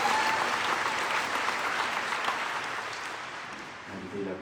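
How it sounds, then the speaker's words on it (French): A congregation at a Sunday Easter-season Mass bursts into sustained applause and cheering, dense and steady at first, then fading toward the end, with a voice speaking over it. "Voilà, on les acclame très fort"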